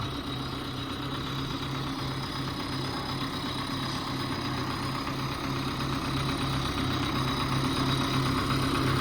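A tractor engine idles steadily after a cold start on a frosty minus-five morning, a loud, continuous close-up rumble with an even, unbroken drone and no talking.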